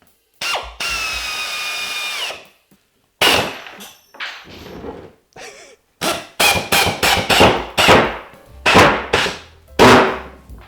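A pneumatic air screwdriver drives screws into solid oak in a workshop, with one long sustained whine followed by a run of short, loud, close bursts of whirring and clattering.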